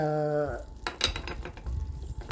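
Ground beef cooking in a pan for tacos is stirred, a few clinks and scrapes of a utensil against the pan over a soft sizzle, close and fairly quiet after a brief tone at the start.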